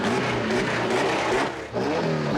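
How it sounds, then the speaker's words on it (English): A V8 car engine revs hard as it accelerates, a loud close roar with one brief dip in pitch before climbing again. "I want to hear how this engine sounds."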